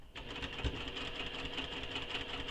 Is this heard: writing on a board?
no